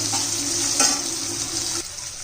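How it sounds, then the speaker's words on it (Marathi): Sliced onion, one large onion cut lengthwise, sautéing in a pan for a fresh-pea veg pulao: a steady close sizzle with a brief stir near the middle, easing noticeably toward the end. "आता कांदा घालून घेऊया उभा चिरलेला एक मोठा चांगला असं परतून घेऊया"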